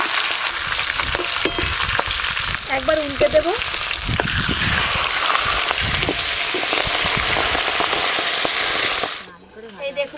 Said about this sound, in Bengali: মাছের মাথা একদম লাল করে মচমচে করে ভাজতে হবে